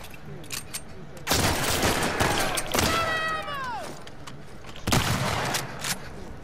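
Pistol shots ring out in The Last of Us Part II, loud bursts in two separate clusters with a rapid volley in between and other game sounds around them, over steady background ambience.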